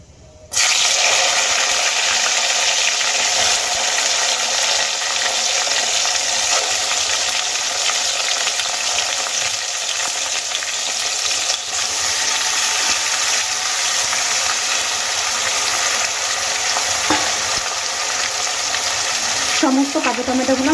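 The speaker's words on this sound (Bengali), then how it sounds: "সমস্ত কাঁচা টমেটোগুলো আমি তেলের মধ্যে দিয়ে দিয়েছি।" Green tomatoes tossed into hot oil with mustard seeds sizzle and fry steadily, a dense continuous hiss at close range that holds evenly throughout with a slight stir near the end.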